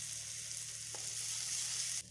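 Garlic frying in hot oil in a kadai gives a steady, close crackling sizzle, alone and without talk.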